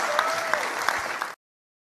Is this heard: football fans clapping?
yes